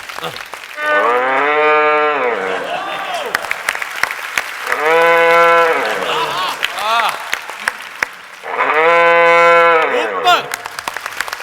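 A voice imitates a cow, giving three long, loud, drawn-out moos with gaps between them.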